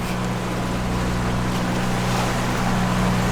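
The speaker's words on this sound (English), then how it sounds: "the wind is almost zero, so we're motoring, and we're going to motor through the night" A catamaran motors under engine power on the open sea off Cape Hatteras in nearly windless conditions, its engine a steady low drone beneath a constant wash of water and wind.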